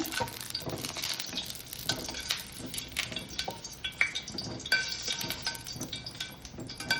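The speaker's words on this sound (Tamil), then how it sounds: "அதனால நான் தனியாக எண்ணெயில் வதக்கி போடுவேன்." Eggplant pieces sizzle and crackle in hot oil while a utensil stirs and scrapes against the pan, with occasional metallic clinks.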